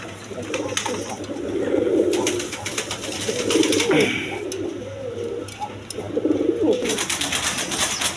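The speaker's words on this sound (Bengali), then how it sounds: "এক পেয়ার ডেনিস কবুতর আছে দেখেন" A pair of big Danish pigeons coo repeatedly in low rolling bursts, fairly close, over a steady background hum.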